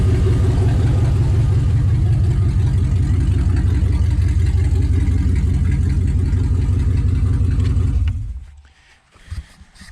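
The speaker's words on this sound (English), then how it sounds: "Engine is completely steady. There's no miss, no nothing." A 2003 Dodge Ram 1500 idling with a rusted-out, shot exhaust, a loud, steady low rumble with even pulsing that runs unbroken for about eight seconds before cutting off abruptly into near quiet.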